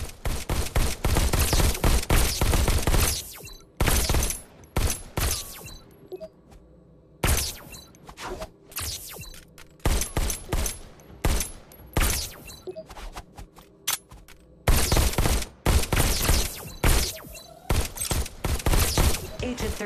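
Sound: pistol shots in Robo Recall video game

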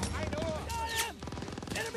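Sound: machine gun fire in video game Call of Duty: WWII

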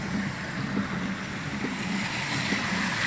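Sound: car driving through a flooded street

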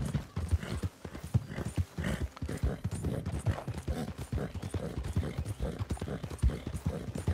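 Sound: horse hooves in video game Red Dead Redemption 2

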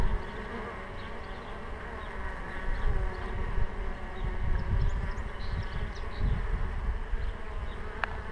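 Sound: honey bees flying in with pollen

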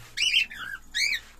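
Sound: male cockatiel calling while courting a female

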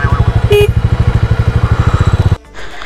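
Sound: motorcycle engine on a sandy road

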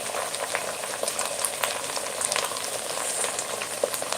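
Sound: spice tempering frying in oil

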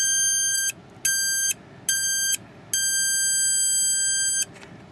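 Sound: piezo buzzer speaker driven by a function generator

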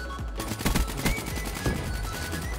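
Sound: gunfire in Call of Duty Black Ops 3 video game

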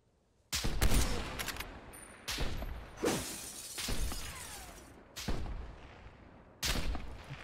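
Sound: gunfire in a video game sniper duel

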